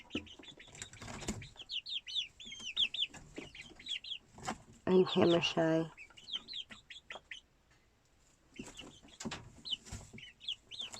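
Backyard chickens cluck and peep in short bursts, close by, with a flurry of wing flapping midway, while someone talks to them between calls.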